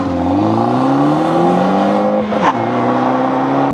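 A 2013 starter sedan engine accelerating hard during a 0-60 mph run, loud and close from inside the cabin, with rising engine tones that drop sharply at a gear change and then climb again.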